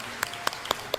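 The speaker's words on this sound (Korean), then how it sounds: "우리 박수로 서로를 격려하고 또 축복하고 또 환영하도록 하겠습니다." A church congregation claps in welcome during a worship service, heard as four sparse, sharp claps spaced about a quarter second apart, faint over quiet room tone.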